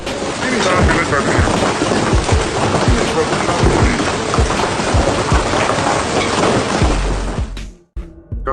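Heavy hail and rain pound down in western Surabaya, a loud, dense roar of impacts with sharp hits throughout, cutting off abruptly near the end.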